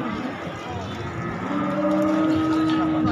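Jumbo cattle at Pasar Wage livestock market in Pati moo in a long, drawn-out call that rises in the second half, heard close and fairly loud over background market noise.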